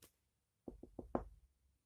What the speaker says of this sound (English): There was a soft knock at the door.